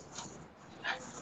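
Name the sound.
dogs barking and whimpering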